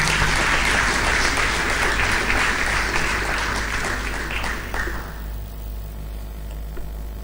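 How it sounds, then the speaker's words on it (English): Audience applause at a formal gathering welcoming a cardinal to speak, broad sustained clapping that fills the hall for about five seconds, then quickly dies away, leaving a low hum of room noise. "Please, let's give him a round of applause."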